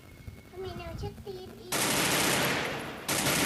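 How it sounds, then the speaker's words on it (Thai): Gunfire from the Garena Free Fire mobile game breaks out after a few seconds of faint game sounds, a loud harsh burst of rapid shots that pauses briefly and then resumes. "ดูนะมันจะยิงหัว"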